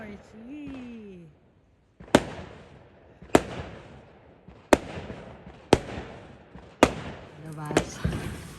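Fireworks bursting on New Year's Eve in the Netherlands, five or six loud separate bangs spaced about a second apart, each with a ringing decay, after a short stretch of voices talking.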